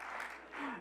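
Brief burst of audience applause at a Sunday church service, a dense, steady patter of clapping filling the short moment.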